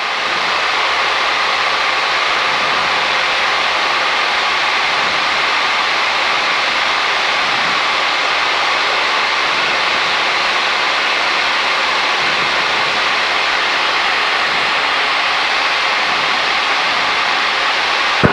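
A small plane's engine roars steadily on the runway at Long Beach, a loud, continuous broadband hum that stays even throughout, with no voices.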